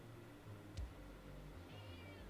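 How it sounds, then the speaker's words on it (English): A house cat meows faintly indoors: a quick short call, then a longer wavering meow a moment later over a quiet room hum. "Don't just sit there meowing at the air."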